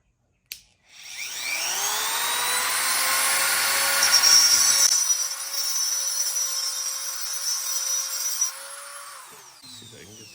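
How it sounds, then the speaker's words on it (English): A Dremel-based Eastwood tungsten grinder with a diamond blade spins up after a click into a steady high whine, sharpening tungsten, loud and close, its pitch shifting slightly under load before winding down near the end. "This is my Eastwood tungsten grinder. It's basically a Dremel with a diamond blade in the top."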